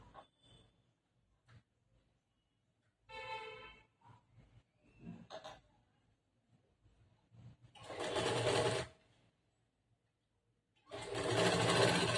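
Sewing machine stitching blouse fabric, running in two loud sustained bursts with shorter quieter whirs and handling noises between them.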